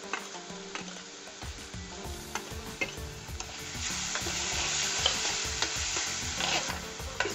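Onions salted and frying in a pan for a Punjabi rajma masala, giving a soft steady sizzle under repeated light tapping and stirring of a spoon against the pan.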